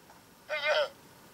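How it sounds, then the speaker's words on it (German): A short, bright bleat-like llama call in Minecraft lasting under half a second, fairly loud and close, with quiet before and after. "Nein, das war ein Lama."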